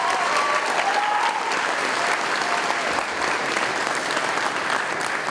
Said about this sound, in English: I just want to give one round of applause for the parents.